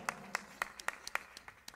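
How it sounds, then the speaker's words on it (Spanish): Faint, steady hand claps, about eight evenly spaced beats, greet a band member at a Colombian-style music show, sounding more like a small rhythmic clap-along than a full ovation. "Freddy Caicedo, un aplauso para Freddy"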